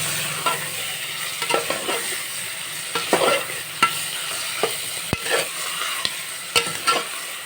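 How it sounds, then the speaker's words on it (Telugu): Marinated chicken sizzles in hot oil in a pan while a spoon stirs it, making loud close scrapes and knocks at irregular intervals over a continuous frying hiss. "ఆయిల్లో కొద్దిసేపు ఫ్రై చేయాలి చికెన్ని"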